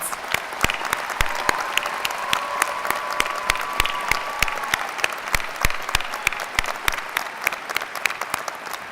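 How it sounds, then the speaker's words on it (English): Large audience at a university winter commencement ceremony applauds doctoral candidates, with sustained, dense clapping and distinct sharp individual claps rising above it throughout, loud and continuous. "Please join me in applauding the achievement of these wonderful doctoral candidates."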